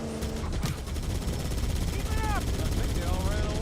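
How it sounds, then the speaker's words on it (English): Rapid machine-gun fire from a vehicle-mounted gun in the video game Halo, dense repeated bursts over game music and sound effects, loud and continuous throughout, with a voice speaking over it. "How do I feel about the car's machine gun sound?"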